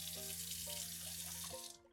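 Tap water runs in a steady, close hiss inside a converted bus kitchen, then shuts off in the last moments.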